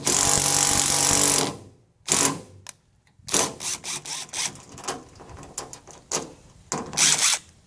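An impact gun rattles in loud bursts while tightening a coupling nut: one long opening run, then a string of short, choppy hammering pulses separated by brief pauses.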